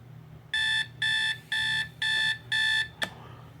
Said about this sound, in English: Just a typical alarm and everything.